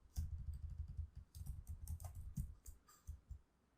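Quick tapping on a computer keyboard while entering an email address, a close, rapid run of soft clicks and keystrokes that slows and stops at the end.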